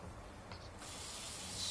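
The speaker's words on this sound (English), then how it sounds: "Spray it with a bit of olive oil or ghee, whatever you like." A short, soft hiss of olive oil or ghee spray being misted onto a papadum before tandoori cooking, quiet and close.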